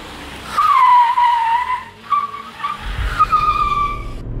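A Tata Tigor JTP corners hard, tires squealing in long high wails while the turbocharged engine, blow-off valve and exhaust rumble underneath, growing louder toward the end.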